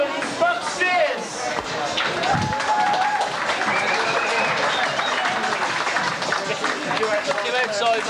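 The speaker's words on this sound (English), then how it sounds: "will you give a big round of applause to Mike Nolan and Buck Sears?" Audience applause in a crowded hall, a dense, sustained roar of clapping mixed with cheering and chatter that continues steadily throughout.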